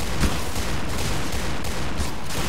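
Python revolver shots in the online shooter Point Blank, mixed into a loud, steady wash of gunfire from a match, with a few sharper cracks standing out from the constant battle noise.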